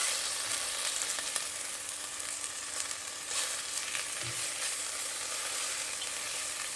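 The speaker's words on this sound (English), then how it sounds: "And then a bit of dhania powder. And then I'm just gonna fry that up." Spices with dhania powder fry in a pan, a steady close sizzle that holds at an even level throughout.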